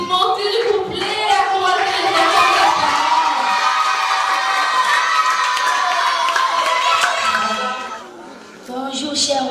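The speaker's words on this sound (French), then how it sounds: "Vos applaudissements s'il vous plaît." A crowd at an education-themed stage event claps and cheers, children's shouts and voices mixing into a dense, continuous roar that holds steady before dipping briefly near the end.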